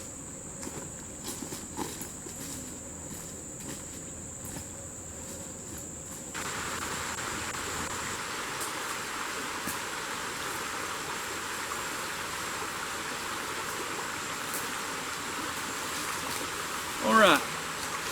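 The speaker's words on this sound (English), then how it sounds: "Here's our creek that we passed earlier, so I know I'm still on the right track." A creek in the woods flows steadily, heard at an overnight survival camp as a constant broadband rush with insects chirping, faint footsteps and a brief knock near the end.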